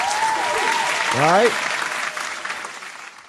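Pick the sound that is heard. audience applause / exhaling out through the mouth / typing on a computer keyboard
audience applause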